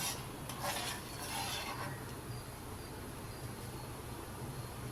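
Steady scraping stir of a spoon in a pan of milk being boiled down for cashew chocolate fudge, soft and continuous with a low bubbling simmer underneath.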